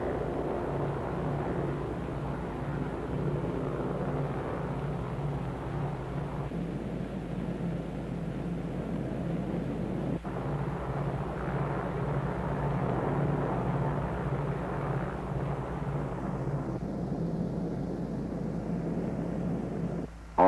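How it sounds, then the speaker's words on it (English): The aircraft Dave's Dream flies toward the Bikini target with escort photographic, weather and instrument planes, giving a continuous, steady propeller drone that holds for about twenty seconds. "With her escort of photographic and weather and instrument planes, Dave's Dream proceeds to the Bikini target."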